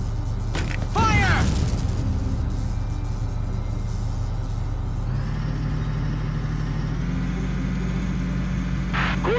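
A tank cannon fires in the video game Valkyria Chronicles, a single heavy boom near the start over a steady low engine rumble that shifts pitch later on.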